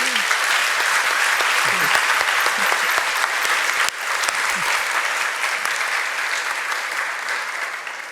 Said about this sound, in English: So let's make a big applause to our panelists.